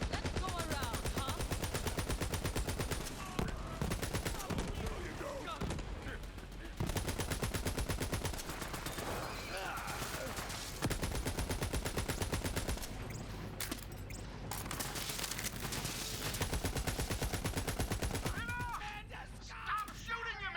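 Sustained automatic gunfire from the video game Borderlands 3, dense rapid bursts running almost continuously with brief breaks, loud and close, with some game sounds mixed in.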